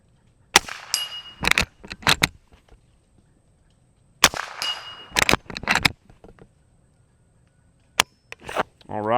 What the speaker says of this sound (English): when I shot at about 100 yards at that spinner target